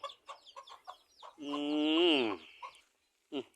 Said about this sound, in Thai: ห้างไก่อยู่ใต้บ้านเพิ่นนะ ห้างไก่ทำด้วยไม้ไผ่